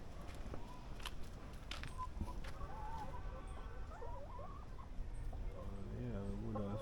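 Chickens cluck and murmur on a small farm during a drought, with a rooster-like call rising among repeated short clucks, mid-distance over a steady outdoor background.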